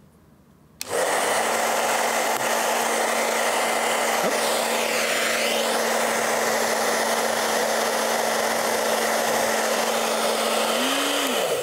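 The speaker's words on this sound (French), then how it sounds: "Vous pouvez faire léviter une balle sur un sèche-cheveux." A hair dryer switches on abruptly and blows with a steady, loud broadband whoosh and a constant motor hum, levitating a ball, running continuously to the end.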